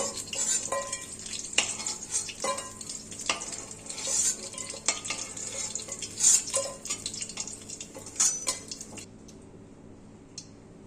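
Amudi fish pakoras sizzle in hot oil with a dense, crackling fry and frequent utensil scrapes and clinks, close by, before the sound drops to a softer hiss at the end.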